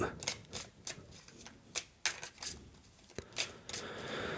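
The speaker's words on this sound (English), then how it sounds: "We'll shuffle these up." Playing cards from the Evolution Climate board game being shuffled by hand, a string of quick, crisp riffling bursts with short pauses between them, close and fairly quiet with no talking.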